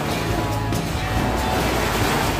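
Simulated tsunami waves at an eco park exhibit in Batu, Malang, heard as a loud, steady roar of rushing, crashing water that fills the whole moment with no break.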